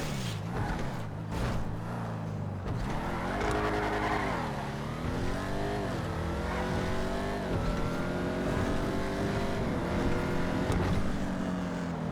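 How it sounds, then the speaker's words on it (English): The Declasse Vigero ZX convertible in a video game revs up through several rising and falling engine pulls, loud and close, with a brief tire squeal at the start and no talking. "let's get started by taking a listen to the car"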